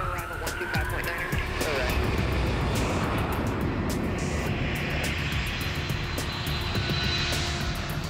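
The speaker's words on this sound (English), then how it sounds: "heavy C5 departing" A heavy C-5 military cargo plane departing from Dover, its jet engines roaring loud and steady throughout, with a voice talking over the sustained rumble.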